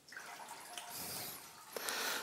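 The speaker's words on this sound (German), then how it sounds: "Ich kann hier einfach das Fusselsieb aufdrehen und das Wasser laufen lassen." Water running out of an opened lint filter on a washing machine holding standing water, a close, quiet trickle with drips and splashy bursts, no talking.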